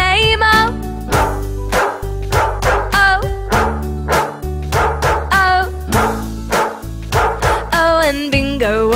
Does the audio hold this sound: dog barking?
yes